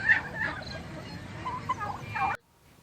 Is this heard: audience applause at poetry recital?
no